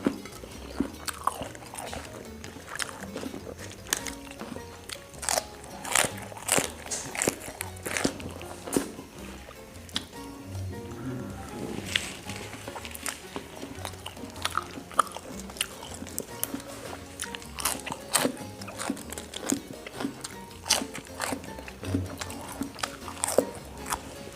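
Loud, crisp crunching and chewing of fresh cos lettuce salad eaten close up, with dense irregular bites repeating throughout and no talk.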